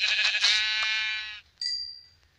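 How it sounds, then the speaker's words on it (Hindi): Sheep bleating in the video game Minecraft, a loud wavering bleat running over a second and then a shorter, thinner second bleat, with no other sounds around it. "भेड़ बकरे की आवाज़ भी आ रही है"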